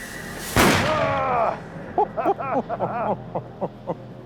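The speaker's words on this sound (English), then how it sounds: "Firing a gun like this for myself is a reminder that correctly loading and aiming a matchlock musket during a messy sea battle would have taken considerable skill" Matchlock musket fired aboard a replica galleon, one sharp loud close blast followed by a lingering roar, then a man's excited exclamations and laughter.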